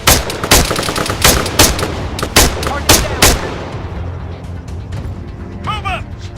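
Automatic gunfire in the video game ArmA 3, a rapid string of loud, sharp shots in irregular bursts for about three seconds, then fading into a quieter battlefield backdrop.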